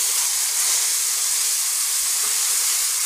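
Water poured into a hot pan of ground cashew, raisin and cardamom paste with turmeric gives a loud, continuous steamy hiss that stays close and unbroken throughout.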